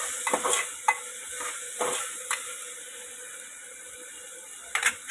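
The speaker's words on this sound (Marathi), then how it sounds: "अशा पद्धतीनं हलवायचं व्यवस्थित" Chhole bhaji being stirred in a pan, a soft ongoing sizzle broken by several scraping spoon strokes near the start and end, close and moderately quiet with no talking.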